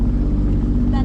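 Jet drive personal watercraft engine idling at the Lyford Cay waterfront in the Bahamas, a steady low rumble running throughout with wind buffeting the microphone and people talking over it.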